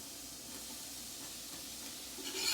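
All-purpose flour sizzling in hot oil over medium heat for a shrimp Creole roux, a soft, steady low sizzle that rises slightly at the very end, with no one talking.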